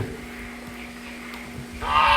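Geese on a Philippine poultry farm let out a loud burst of honking close by near the end, after a quiet stretch of faint background noise and a low hum.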